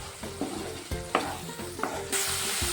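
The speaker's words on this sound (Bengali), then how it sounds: "দিয়ে ভালো করে মশলাটা কষে নেব।" Spice paste with sugar fries in a pan for stuffed egg curry, giving a close, continuous sizzle broken by several scraping strokes and taps of the spatula.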